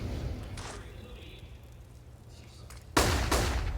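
Flashbang grenades go off in Counter-Strike. A faint pop comes early, then a loud, sharp burst of bangs near the end, under esports commentators talking.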